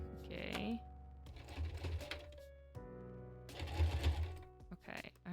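Domestic sewing machine stitching cosplay fabric in quick bursts, two loud rattling runs separated by pauses, with a brief voice and faint handling noises in between.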